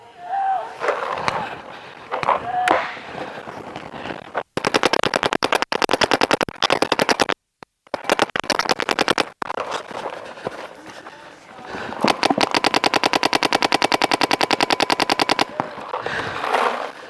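Rapid automatic gunfire in a team shooter game, long sustained bursts with short gaps, loud and close, with players shouting over parts of it.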